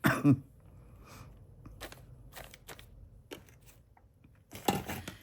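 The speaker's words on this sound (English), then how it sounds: "Sorry for my cough." A single short cough bursts out near the mic at the start, then quiet rustling and small handling taps, and another rough cough-like burst near the end.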